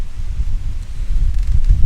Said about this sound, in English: it's getting more and more windy out here. I know you guys are starting to hear that.